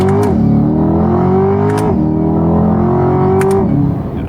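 A base-model Corvette C8 Stingray with a dual-clutch gearbox accelerates hard: a loud, close engine note climbs in pitch, drops sharply at each of three quick gear shifts, then climbs again, with no talking.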